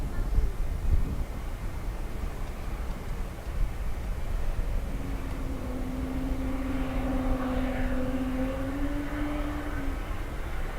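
At Dublin Airport, a jet airliner takes off from the runway with a steady roar and a rising engine whine that swells in the middle and fades toward the end.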